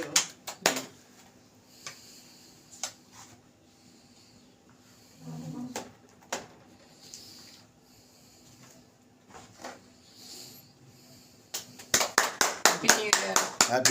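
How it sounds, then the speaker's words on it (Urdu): At a New Year celebration, scattered single claps and taps are spread through quiet stretches, then a burst of rapid, fairly close audience clapping breaks out at the end. Voices talk at times. "بہت ساری تالیاں."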